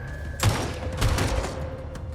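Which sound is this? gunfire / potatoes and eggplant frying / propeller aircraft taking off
gunfire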